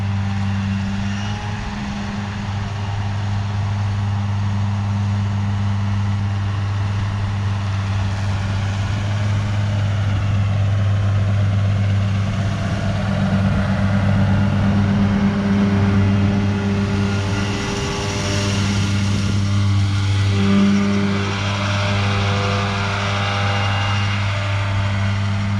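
A tractor engine runs nearby with a steady, low drone and strong harmonic hum throughout, holding constant loudness.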